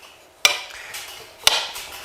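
A brass-faced hammer strikes a roll pin punch to drive out a roll pin near the gas adjuster of a JTS M12AK shotgun. Two crisp metallic taps land about a second apart, close and loud, each with a short ring.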